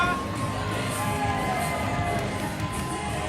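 A wrestling crowd cheers a wrestler's spectacular ring entrance, a steady, dense roar of shouts and whoops with high-pitched squeals, continuous throughout and loud.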